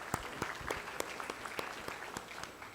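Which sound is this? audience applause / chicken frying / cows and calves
audience applause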